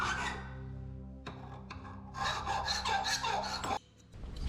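A file rasps against metal during a car restoration in a workshop, with quiet back-and-forth scraping strokes in short bursts and a brief pause near the end.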